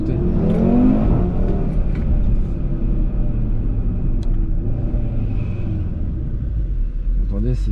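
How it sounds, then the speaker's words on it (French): An Audi RS3's 400 hp five-cylinder engine rumbles and revs loudly throughout, a steady growling drone close by from inside the car, with someone talking over it. "Ce que j'adore le plus avec cette RS3, les gars, c'est le son moteur. C'est le 5 cylindres"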